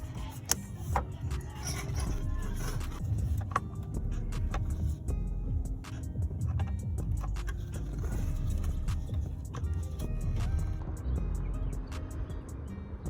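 Clicks and knocks of plastic clips and fittings as the factory air intake comes off a 2015 Honda Civic Si, scattered sharp taps over a steady low background hum, close by.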